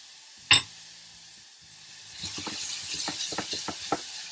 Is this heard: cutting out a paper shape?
no